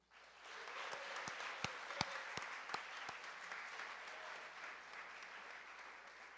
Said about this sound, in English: Let's give a big round of applause for our sports medicine staff